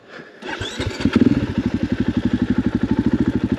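A dirt bike on a forest trail starts up and settles into a loud, close, steady chugging idle with an even pulsing beat and no talk.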